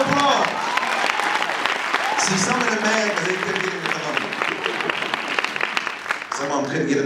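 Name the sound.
audience applause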